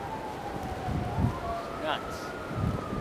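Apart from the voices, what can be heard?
sirens going off during a blizzard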